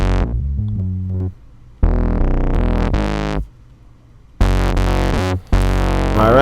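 A bass guitar through a distortion effect, knob being turned, plays loud, gritty notes in bursts, cutting out between phrases, with a buzzing, saturated tone and no voices.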